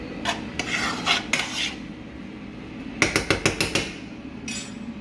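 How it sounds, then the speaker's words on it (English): A metal spoon stirs seasoning in a cooking pot for seafood egg rolls. It gives short bursts of scraping and clinking, then a quick run of rhythmic clinks, all fairly quiet and close, with no voices. "we're gonna come over here and stir our seasoning"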